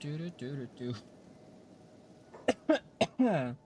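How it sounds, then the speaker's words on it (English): A man gives three sharp, close coughs in quick succession, followed by a hoarse throaty burst, after brief stretches of his own talking. "I don't know why I'm coughing so much."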